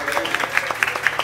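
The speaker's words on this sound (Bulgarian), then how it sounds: "Ами аплодисменти за тях." Short burst of audience applause at a Bulgarian book launch, scattered claps with uneven rhythm over a soft room murmur, moderately near and fairly quiet.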